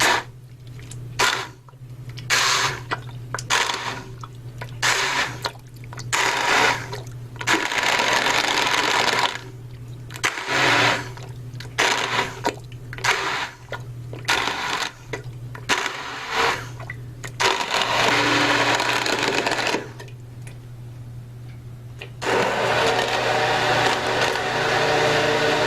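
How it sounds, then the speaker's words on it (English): An immersion blender pulses through herbs for a homemade syrup, loud whirring bursts switching on and off in rapid repeated pulses, then a longer steady run near the end. "I have an immersion blender which I found works really nicely, and I'm going to put this in and just pulse it a little bit"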